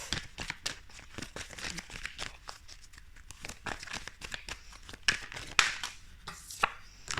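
Tarot cards are shuffled and drawn in a rapid, continuous run of papery flicks, snaps and riffles, close and fairly soft, with a few sharper slaps near the end.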